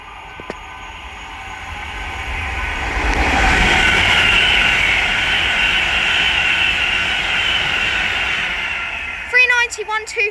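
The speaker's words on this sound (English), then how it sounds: "Down in the distance is an Avanti West Coast Class 390 Pendolino." Avanti West Coast Class 390 Pendolino passing through Bletchley on the West Coast Main Line: a broad rushing roar swells in from a distance, peaks, and holds as a sustained whoosh, with a voice briefly heard at the end.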